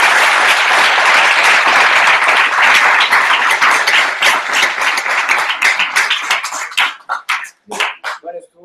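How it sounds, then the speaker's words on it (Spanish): A crowd applauds loudly and densely, then the clapping thins out into a few scattered claps before stopping. "Fuerte aplauso para el médico."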